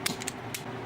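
Wire cutters snipping electrical wire while outlets are wired in a shop, a few short sharp clicks close by, with no talk.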